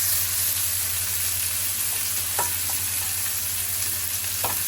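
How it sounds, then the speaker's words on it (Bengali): Cauliflower lightly fries in a pan, a steady sizzle running throughout with a few brief scraping stirs. "এটা একটু হালকা ভাজা হোক।"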